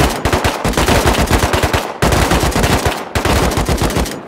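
Rapid automatic gunfire aimed at a minicopter in the video game Rust: dense, loud bursts of fast repeating shots, broken by two short pauses, with no speech.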